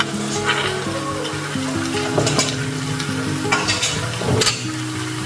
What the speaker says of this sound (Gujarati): એને પણ મિક્સ કરી લઈએ મસાલા સાથે સરસ